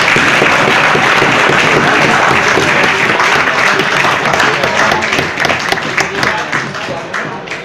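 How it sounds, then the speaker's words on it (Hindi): An audience at a DXN gathering breaks into loud, continuous applause that holds steady for several seconds before gradually thinning out, with some voices underneath. "तालियां तो बनती है दोस्तों।"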